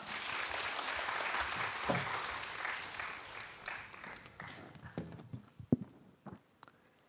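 A church congregation applauds to welcome a speaker to the front during a service, the clapping full at first, then thinning into scattered claps, some louder ones standing out as it dies away.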